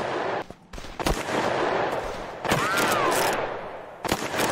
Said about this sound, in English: Whoa, who's shooting me?